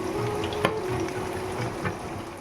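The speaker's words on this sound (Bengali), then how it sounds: "এখানে রান্না বসিয়ে দিয়েছি পেঁয়াজ লাল হচ্ছে" Onions fry in a pan with a soft, steady sizzle during home cooking, broken by a couple of brief utensil clinks against the pan.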